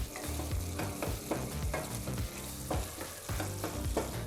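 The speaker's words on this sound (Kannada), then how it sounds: "ಟೊಮೊಟೊ ಹಣ್ಣನ್ನು ಒಂದು 5 ನಿಮಿಷಗಳ ಕಾಲ ಸಾಫ್ಟ್ ಆಗೋವರೆಗೂ, ಅಂದರೆ ಟೊಮೊಟೊ ಹಣ್ಣು ಚೆನ್ನಾಗಿ ಬೆಂದು ಸಾಫ್ಟ್ ಆಗಬೇಕು, ಮೃದು ಆಗಬೇಕು, ಅಲ್ಲಿವರೆಗೂ ನಾವು ಇದನ್ನು ಫ್ರೈ ಮಾಡ್ಕೋಬೇಕಾಗತ್ತೆ." Tomatoes fry in a pan for hotel-style tomato bath, a steady close sizzle with a spatula scraping and stirring in regular strokes, loud throughout and with no voices.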